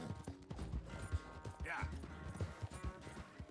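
A horse gallops in a video game, rhythmic hoof clip-clops thudding steadily throughout, while a player talks over it.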